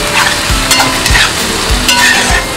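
Lote fish (Bombay duck) fries with green chili paste in a pan, a close, steady sizzle broken by four regular scraping thuds of stirring.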